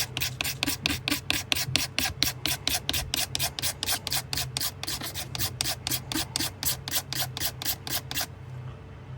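A knife blade scrapes rapidly and steadily against a chipped bone knife handle, making a close, dry rasping stroke about three to four times a second for around eight seconds before stopping.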